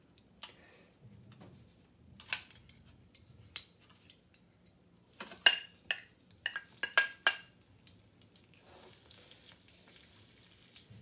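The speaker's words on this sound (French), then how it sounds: "Donc je vais mettre tout ça dans la poêle où j'ai mis 2 cuillères à soupe d'huile d'olive" A chicken mixture goes into a frying pan with olive oil, giving soft sizzling and a run of sharp metallic clinks and scrapes of a utensil against the pan, quiet and irregular with short pauses.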